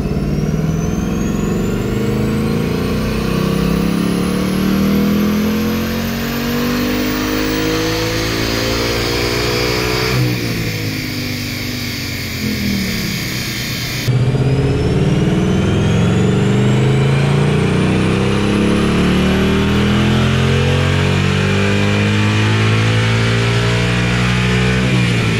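A 2019 Ford Mustang with a Gen 3 Coyote V8 pulls hard in fourth gear, its loud engine note climbing steadily in pitch, easing briefly partway through, then rising again to a sustained roar.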